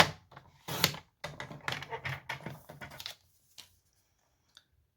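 Cardstock is cut by hand just outside a score line, giving a series of close, crisp snipping and rasping strokes that stop midway, leaving near silence with a couple of small clicks.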